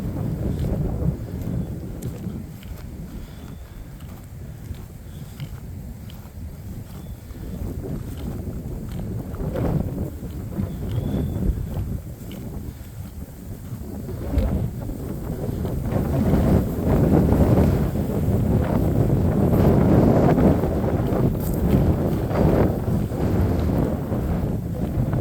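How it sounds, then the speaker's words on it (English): Wind buffets the microphone during an afternoon hike in a state park, producing low rumbling gusts that rise and fall and build stronger toward the end, with no talking. "The wind is so warm now it doesn't even feel good."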